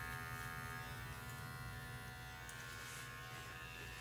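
Electric clippers buzz steadily and close up while trimming and squaring the corners of a poodle's crisscross Dutch pattern, a continuous even motor hum with no talking.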